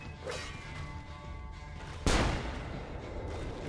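Gunfire in the video game Assassin's Creed Brotherhood: one sharp, loud blast crashes in partway through over a steady bed of game ambience and music, then fades into a noisy tail.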